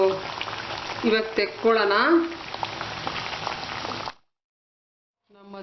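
Maddur vada fry in hot oil with a continuous bubbling sizzle beneath a person talking, then the sound cuts to silence.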